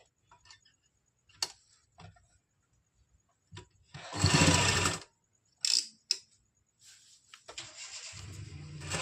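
A sewing machine runs in short bursts stitching folded suit lining fabric with large stitches, quiet clicks and ticks between a few louder whirring runs.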